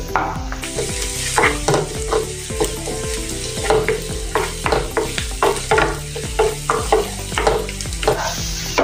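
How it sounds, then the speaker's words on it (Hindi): Ginger-garlic paste fries with onions in a hot pan with a steady sizzle while a utensil stirs and scrapes the pan in quick, repeated strokes, close and loud, with no talking. "अब इसमें लहसुन अदरक का पेस्ट डालेंगे, इसको भी मिक्स कर लेंगे"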